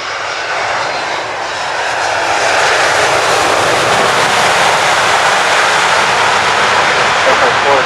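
An Air France heavy airliner landing on wet runway 07 at San José airport, Costa Rica, gives a loud, close, broadband jet roar that swells over the first two seconds and then holds steady.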